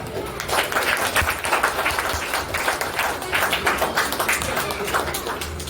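A church congregation clapping together after a prayer, a loud, steady round of applause with a pulsing rhythm throughout, with a voice speaking over it.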